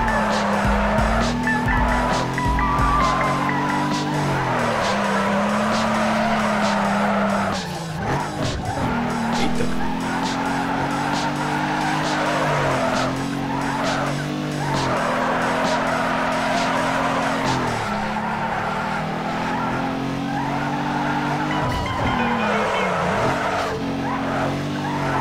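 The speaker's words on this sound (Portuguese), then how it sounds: "Delícia esse drift." A car drifts through mountain roads in Need for Speed: Underground 2, its engine droning loudly while the tires squeal in long repeated arcs as the revs rise and fall, nearly nonstop throughout.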